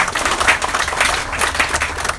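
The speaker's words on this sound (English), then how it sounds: "So just a round of applause for everyone" An audience applauds at a Boy Scouts ground-breaking ceremony, with dense, continuous clapping that fills the whole stretch at fairly close range.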